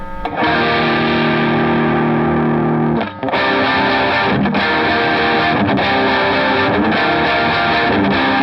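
A loud, heavily distorted electric guitar chord rings out and sustains, briefly cut off around three seconds before being struck again and held.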